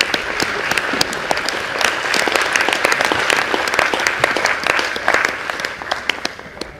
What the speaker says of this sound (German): Bitte schön, Applaus bitte.